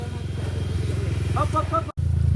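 Motorcycle engines idling and puttering steadily on a hard mountain trail run from Santo Tomas to Bay, Laguna, with a brief dropout near the end, while riders talk close by.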